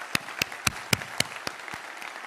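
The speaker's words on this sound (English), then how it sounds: "Please, applause." Sparse audience applause at the International Physics Olympiad closing ceremony in France, about seven distinct sharp claps spaced evenly through the moment, fading toward the end.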